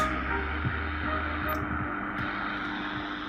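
An old Paillard 416 vintage radio, with its tone switch set for bass, plays with a low, boomy bass hum and faint static, a muffled steady sound with a soft thump near the start.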